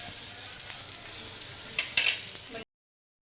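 Fish pieces frying in oil over a medium gas flame, a steady close sizzle with a brief louder crackle near the end before it cuts to silence.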